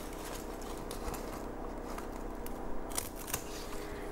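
Scissors trimming yellow leaves off a houseplant, heard as a few quiet, crisp snips spaced irregularly over a soft indoor background hum.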